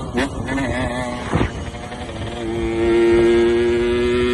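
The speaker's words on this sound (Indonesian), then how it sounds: "Suara knalpot yang meraung-raung" A touring motorcycle's exhaust roars on an Indonesian coastal route, a steady mid-distance engine drone with harmonic whine that swells louder near the end, with a brief rush of passing noise partway through.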